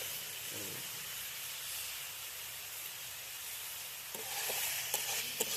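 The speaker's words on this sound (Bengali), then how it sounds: "ভালো করে ভেজে নিই।" Sliced onions with salt sizzle steadily in a pan over an outdoor village cooking fire, a constant hiss with a few scraping stirs and light clatter near the end.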